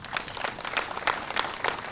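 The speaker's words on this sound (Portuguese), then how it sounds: "Aplauda o nome do Senhor bem forte." A church congregation applauds during a worship service, a steady, dense patter of many hands clapping with a few sharper accents, moderately loud and slightly distant, with no speech over it.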